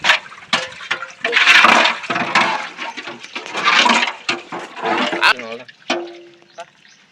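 Water poured into a biriyani cooking pot, coming in several splashing, gurgling bursts of varying strength, with a person talking between and over the pours.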